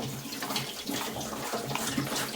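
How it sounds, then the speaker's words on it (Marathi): Water splashes and trickles into a bowl after a pot is rinsed, a soft, close, continuous pouring with small bubbling surges while preparing a suji poha breakfast. "आता मी थोडंसं पाणी टाकते, थोडंसं भांडं धुवून थोडंसंच टाकायचं"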